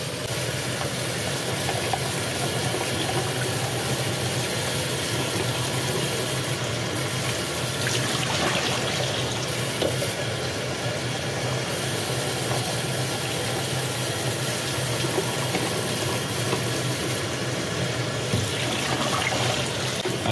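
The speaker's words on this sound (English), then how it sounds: "I've been flipping over the spool and making sure that water gets washed from both ends." Tap water runs steadily over a developing spool while expired Kodak Ektachrome 100 Plus E6 slide film is rinsed, a continuous close hiss and splash with no voices, shifting slightly as the spool is flipped.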